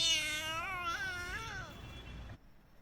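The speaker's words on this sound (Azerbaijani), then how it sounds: "Pişik bir dəqiqə sən nə deyir?" A cat meows in one long, drawn-out, wavering cry that rises and bends in pitch before cutting off abruptly, close and moderately quiet, followed by near silence.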